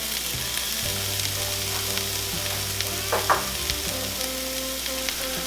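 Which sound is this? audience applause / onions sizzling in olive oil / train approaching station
onions sizzling in olive oil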